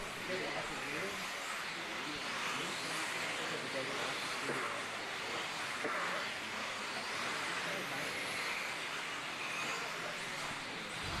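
Four-wheel drive modified RC off-road cars racing at an off-road championship, a dense high whine of many small motors blending with crowd and track ambience, while an announcer talks over it continuously.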